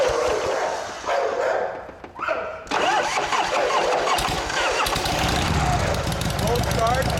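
A 1984 Harley-Davidson FXWG Wide Glide with new valves, guides and rings cold-starting: a brief cranking, then the engine catches into a loud, rough, uneven idle up close, with a dog barking and a voice nearby.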